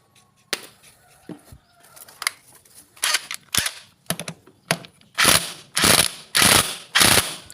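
A magnetic nut goes onto a Jupiter Z1 motorcycle, heard as sharp metallic clicks and ratchet-like bursts, close and loud, growing into a run of longer rhythmic grinding ratchet strokes toward the end.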